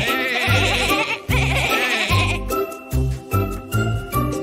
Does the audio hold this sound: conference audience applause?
no